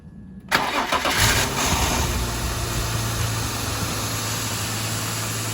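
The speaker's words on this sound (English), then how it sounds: "So I'm gonna start the car, close the cap just in case it sprays." A BMW 328i engine cranks and fires up close after a brief silence, then settles into a steady, even idle hum during a radiator coolant change.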